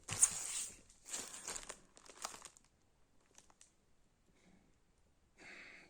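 A plastic package bag crinkled and unwrapped while opening a parcel from the Ukrainian postal service, close crackly bursts in three quick rustling spells, then quieter scattered handling and a final rustle.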